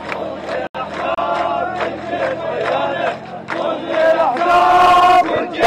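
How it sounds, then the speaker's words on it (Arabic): Protest crowd in Baghdad's Tahrir Square chanting in praise of the Iraqi army, loud rhythmic massed voices rising and falling in repeated bursts, close and energetic, swelling toward the end. "هتافات تشيد بدور الجيش العراقي بطريقة تعامله مع المتظاهرين"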